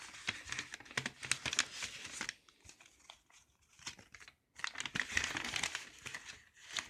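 Paper and plastic wrapping on a gift package crinkles and tears in close, irregular bursts, pausing briefly in the middle before another rush of crumpling.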